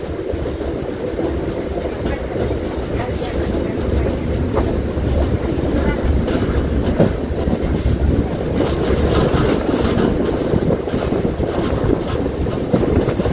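Aboard the Tirumala Express superfast train on the run toward Duvvada, a loud, steady rumble of wheels and carriages with rattling clatter fills the whole stretch, with no one talking.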